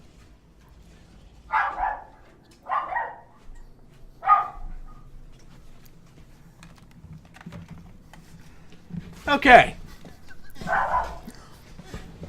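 A dog barks a few times in short separate bursts at moderate distance, with a brief spoken word between them in a quiet room.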